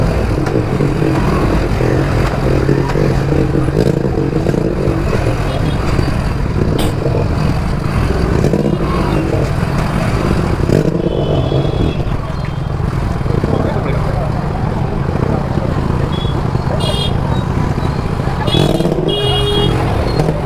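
Motorbikes rumble and rev through a crowded Chickpet street in continuous, close traffic noise, with voices talking over it and a few short horn-like beeps near the end.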